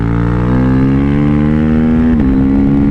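A 2022 KTM RC 390 single-cylinder motorcycle engine droning steadily under riding load, pitch climbing gradually before a brief dip, loud and close throughout.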